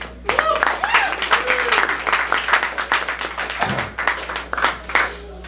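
An open mic crowd at a Waco bar claps steadily for the week's performers, a dense burst of applause with scattered cheers and voices woven through.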